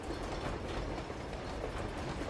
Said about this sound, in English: the train will ride off away from Nate